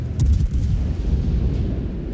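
Deep booming blasts of naval cannon fire from the cruiser Brindisi in World of Warships roll out in quick succession, heavy and low, then fade into a rumbling tail.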